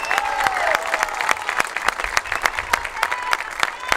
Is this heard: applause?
yes